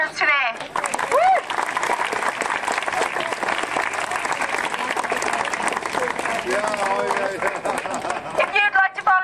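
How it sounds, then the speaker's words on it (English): Sustained applause and cheering from a parkrun crowd honouring the volunteers at Lough Key's 100th parkrun, a dense wash of outdoor clapping that carries on steadily for about nine seconds with a few whoops and voices mixed in. "can I get a thundering round of applause to my volunteers today?"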